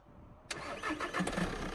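A shop car with a dead battery cranks and catches after a quiet moment, then settles into a rough, low idle close by.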